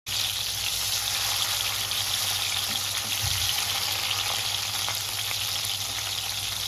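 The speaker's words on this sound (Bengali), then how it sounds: "মাছগুলোকে ভালোভাবে এপিট ওপিট করে ভেজে নিব।" Pieces of fish fry in hot oil for a fish curry, producing a loud, dense, continuous close-up sizzle that holds steady from start to finish with no speech.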